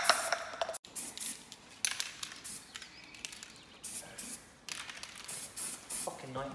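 Aerosol spray paint is applied as a colour coat to alloy wheels in repeated short hissing bursts at close range, with quiet voices and faint background sounds between the sprays.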